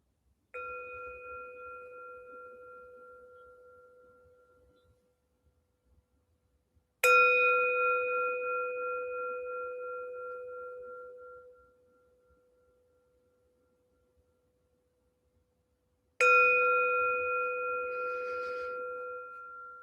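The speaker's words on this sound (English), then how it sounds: "So I'll ring the bell and you guys can get cozy on the floor with your cushions." Meditation bell struck three times during a movement and meditation class, each a clear pure ring with bright overtones that sustains and slowly fades, separated by several seconds of near silence.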